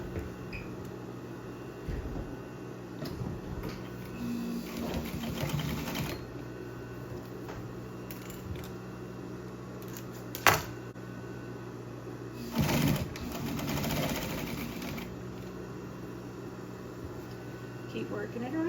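A home sewing machine stitches fabric for Christmas stockings, with a steady mechanical whir of the needle running in bursts and pausing between passes, plus faint handling noises.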